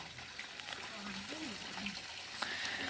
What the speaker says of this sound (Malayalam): നമ്മൾ വെള്ളം ഒഴിക്കാൻ തുടങ്ങിയിട്ടുണ്ട്